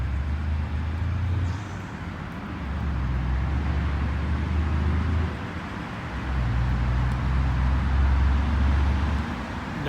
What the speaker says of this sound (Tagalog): Dami ng sasakyan, uwian na.